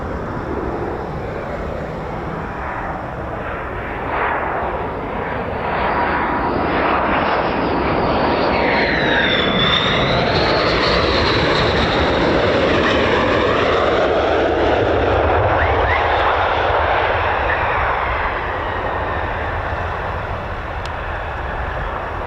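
An F-15 or F-35 fighter jet rolling out after landing at RAF Lakenheath, aero braking with a loud, sustained engine roar that rises and sweeps as the aircraft passes, heard alone.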